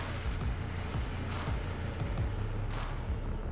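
Rlaarlo ROG1 RC truck, stock except a 41-tooth pinion and new tires, at full throttle: a steady close electric motor whine with rough rumble of tires over the ground, continuous and fairly loud, no talking.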